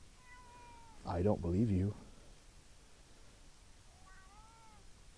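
A pet cat lets out one loud, drawn-out meow close by, with someone talking softly around it.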